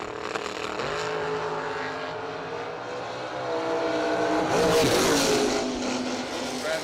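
A Beretta and a Ford Mustang run a drag race at a fall brawl event, with engines revving and roaring at the strip. A track announcer talks over them, and the noise swells loudest near the end.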